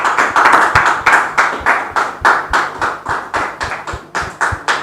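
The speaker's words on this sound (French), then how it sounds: "On les reçoit sous vos applaudissements" Audience applause at a French-language gathering, a steady rhythm of sharp claps, close and loud, keeping an even beat throughout without any speech.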